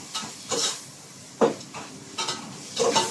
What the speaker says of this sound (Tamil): எல்லா மசாலாவும் ஒன்னா சேர்ற மாதிரி கொஞ்சம் கிளறி விடுங்க